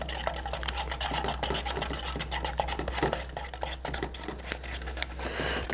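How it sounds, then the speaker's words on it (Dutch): Dough for Crispy Frenz is worked by hand with cold water added, giving soft, quiet scraping and rubbing sounds in an irregular rhythm over a low background hum. "dan gaan we dat er gewoon bij mengen"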